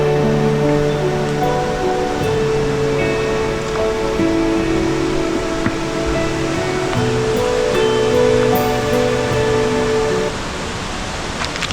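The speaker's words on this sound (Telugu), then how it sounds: "ఇలా జలపాతానికి వెళ్ళాలి." Steady, loud broadband rush of water at the Gauri Shankara Kona waterfall, continuous for the whole stretch with no talk over it, dropping slightly in level near the end.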